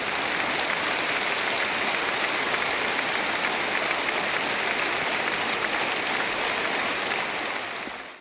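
A large hall audience applauds steadily and loudly through a political address on annexing Ukrainian regions, a dense wash of clapping with no voices over it, fading only at the very end.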